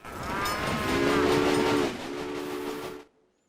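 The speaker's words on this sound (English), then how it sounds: "Your train is now traveling between Omaha and Norfolk." A steam-era train in the Railway Empire video game rolls steadily along with a rumbling chug, while a long whistle sounds over it and changes pitch before the sound cuts off abruptly.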